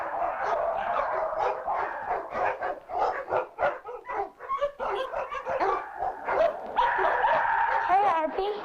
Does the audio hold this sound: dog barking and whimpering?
yes